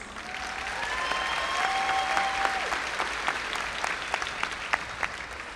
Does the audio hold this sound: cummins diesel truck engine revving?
no